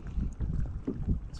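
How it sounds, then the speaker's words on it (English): Gusty wind buffets the microphone outdoors at a fishing spot at Harriman, in low, uneven thumps and rushes, fairly faint, with no voices. "It's windy."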